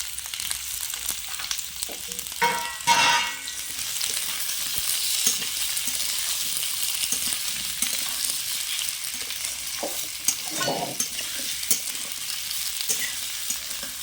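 Chopped tomatoes, seeds removed, hit hot oil in a kadai for kadai chicken, giving a loud, steady sizzle with a few scraping stirs and bursts of spattering, heard close up with no talking.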